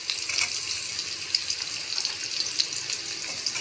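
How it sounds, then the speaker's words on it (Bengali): Potatoes with onions fry in a pan, giving a steady, close broadband sizzle and crackle with small pops scattered throughout and no voices. "আলুটা আগে দিয়ে দেবো, যাতে আলুটা একটু সামান্য হালকা ভাজা ভাজা হয়।"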